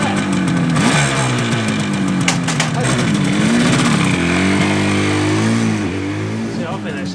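A Yamaha RD 250 two-stroke motorcycle engine runs loud and close, a buzzy rising and falling rev with people talking over it.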